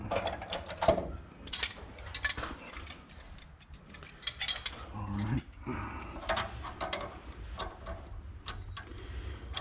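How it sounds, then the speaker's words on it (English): A 3/4 male adapter is threaded by hand into a water heater fitting, producing irregular close metallic clicks, scrapes and ratcheting taps with brief pauses between turns. "I'm just going to put 3/4 male adapter right here, inside of here"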